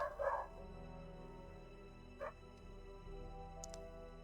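A dog barks a couple of times, short faint yaps at the start and again about two seconds later, heard from a distance against quiet background hum.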